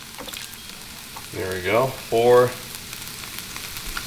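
Bacon grease sizzling on a Blackstone E-Series 22-inch griddle turned up to 475, a steady close frying hiss running under a man's brief speech.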